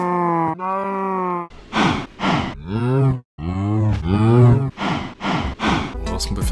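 Several drawn-out Minecraft cow moos, deep and groaning, one after another with brief gaps, close and fairly loud, with a few higher bleating calls mixed in.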